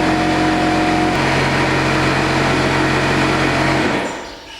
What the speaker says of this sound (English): We'll let the air compressor cycle all the way up.